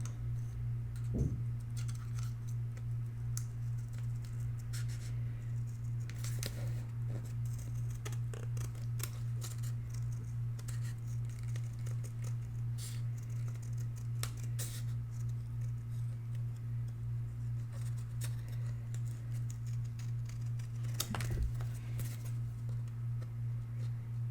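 Scissors make occasional faint snips while trimming patterned paper for a horse-themed mini album. The cuts are scattered and quiet over a steady low electrical hum, with a couple of louder clicks from handling.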